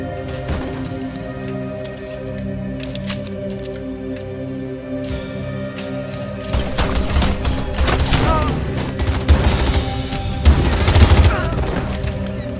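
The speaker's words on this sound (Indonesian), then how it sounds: "Sebelum kabur, Celios sempat baku tembak dengan penjaga setempat." Gunfire in a shootout from the film Crank 2: High Voltage, with scattered sharp shots early on giving way to a dense, loud volley of rapid blasts and impacts over a sustained background of film sound.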